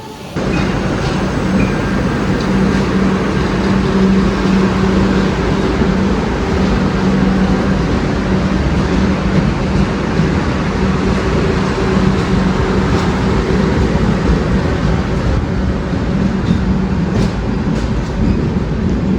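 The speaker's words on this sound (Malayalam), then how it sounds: "ഹസ്രത്ത് നിസാമുദ്ദീൻ നിന്ന് തിരുവനന്തപുരം സെൻട്രലിലേക്ക് പോകുന്ന രാജധാനി എക്സ്പ്രസ്" Rajdhani Express running from Hazrat Nizamuddin to Thiruvananthapuram Central, a steady loud rumble of rolling coaches with a faint rhythmic wheel clatter that holds through the whole pass, no voices over it.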